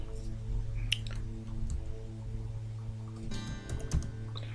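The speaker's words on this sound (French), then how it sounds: "Donc, je tape" Someone types on a computer keyboard while working in Access database software, close by: quick, light key clicks in short runs over a steady low background hum, ending in a denser cluster of taps.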